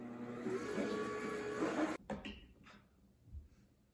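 A juicer grinds and whirs on an onion. A loud motor hum cuts off abruptly midway, followed by faint clunks and rattles as the machine settles.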